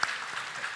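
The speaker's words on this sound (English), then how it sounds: "Let's give a big round of applause again to all of our athletes in the room." Brief wash of room applause for athletes at the IC3 Games 2023 capture-the-flag event, many hands clapping at a moderate, even level for under a second.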